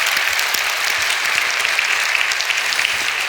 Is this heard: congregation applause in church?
yes